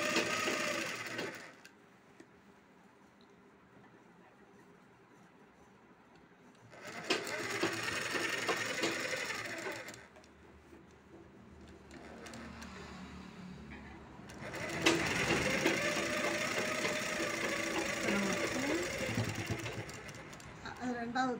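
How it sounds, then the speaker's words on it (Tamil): A sewing machine runs in several sustained bursts as it stitches the shoulder seam of a 40-inch blouse, with someone speaking over and between the runs. "ஊசியை இறக்கி விட்டுக்கிட்டு துணி இறையெல்லாம் உள்ள தள்ளி விட்டுக்கிட்டு அப்படியே தச்சுக்கிட்டு இருக்கோம்"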